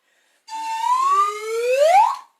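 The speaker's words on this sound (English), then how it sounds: "Let me get my handy dandy whistle here." A handheld whistle blown once in a children's movement class, a sustained shrill tone of nearly two seconds that bends upward in pitch toward the end before cutting off, loud and alone.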